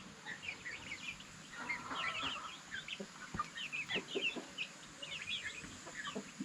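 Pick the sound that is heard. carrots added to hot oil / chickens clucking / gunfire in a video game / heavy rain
chickens clucking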